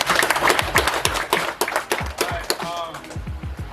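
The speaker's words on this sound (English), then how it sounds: "Let's give him a big round of applause for" Short burst of clapping for a world bronze medalist wrestler at a wrestling practice, sharp irregular claps from a small group, moderately loud, overlapping with talking voices.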